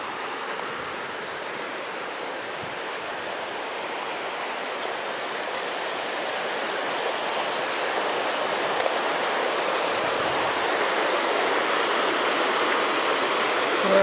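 Fenwick Creek, a clear mountain stream, rushes in a steady, broad wash of flowing water that stays close and constant throughout, growing slightly louder toward the end, with no talking.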